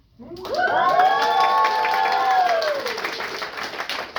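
A studio audience bursts into loud applause and cheering, with shrill excited shouts rising over steady clapping, swelling quickly and holding before slowly fading.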